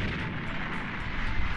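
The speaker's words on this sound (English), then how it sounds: "Dang, that's a big explosion." A big explosion in the video game Dragon Ball Z: Kakarot roars as a loud, dense, sustained blast of noise filling the whole clip without a break.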